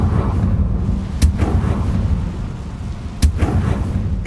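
Confringo blasting spell fired in Hogwarts Legacy, heard as two sharp, loud explosive cracks about two seconds apart over a dense, rumbling game soundscape, with no talking.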